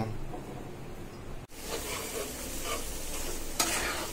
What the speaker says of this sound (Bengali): এই যে আমি মিক্সারটা আর টমেটো, কাঁচামরিচগুলো তেলে দিয়ে দিলাম